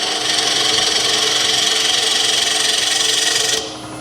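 A bowl gouge with a 40/40 grind makes a pull cut across a spinning 10-inch wooden bowl blank on a lathe, a loud, steady rasping hiss that cuts off near the end, leaving a lower hum.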